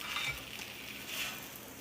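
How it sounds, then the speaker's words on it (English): Grilled cheese sandwiches of sourdough with Havarti and Provolone sizzle steadily in a hot pan, a close, continuous crackling fry with light scraping and no talking. "I'll add 6 tablespoons of water, but I hear the perfect sizzle."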